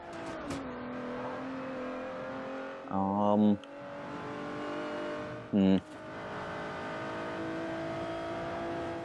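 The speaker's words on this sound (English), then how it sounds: "Right, there goes the Ferrari." A Ferrari racing in a Forza Horizon street race drones with a steady, close engine tone that slowly shifts in pitch, broken twice by short, louder bursts like gear changes or bumps.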